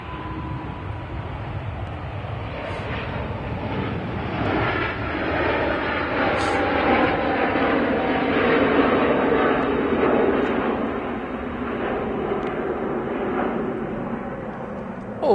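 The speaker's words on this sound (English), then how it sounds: "It's such an elegant aircraft." An airliner in distinctive livery passes at Manchester Airport, its engines building to a loud, sustained roar that swells in the middle and then eases slightly as it goes by, with no talking.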